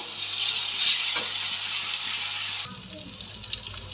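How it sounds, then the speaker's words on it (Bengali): Onion and garlic paste sizzles in a hot pan, a loud, steady hiss that carries on for a few seconds before it suddenly quietens and softer stirring clicks follow. "এই যে ভাজা হয়ে গেছে পেঁয়াজ রসুনটা"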